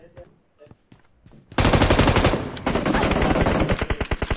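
Loud rapid automatic gunfire from a multiplayer shooter game erupts after a quiet start with faint clicks and continues in dense, rattling bursts.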